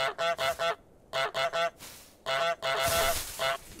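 Cartoonish goose honks from a video game ring out loud and close in three quick clusters of three, then a longer run of honking near the end, with no talking over them.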